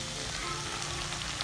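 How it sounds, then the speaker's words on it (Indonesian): Bakwan vegetable fritters fry in hot oil, giving a steady, close crackling sizzle throughout with no talking. "Nah, ini saya lagi goreng bakwannya ya"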